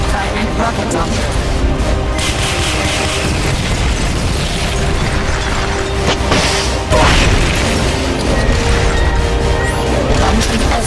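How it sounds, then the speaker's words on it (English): A rocket launcher fires in Metal Gear Solid Peace Walker, a loud, dense stretch of booming blasts and crashing debris that runs without a break, with a sharper surge near the end. "Firing rocket launcher."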